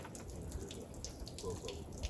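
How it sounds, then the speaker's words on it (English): Creek water running through a portable hiking water filter on a trail, a steady close trickle and gurgle with faint voices in the background. "And he's filtering it with her filter."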